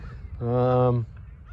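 A goose gives one loud, nasal honk close by outdoors, lasting about half a second, between stretches of quieter background sound.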